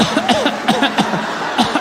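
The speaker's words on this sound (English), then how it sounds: "I'll cough on you now" Several short, harsh coughs in quick succession, close and fairly loud, with bits of breathy voice between them.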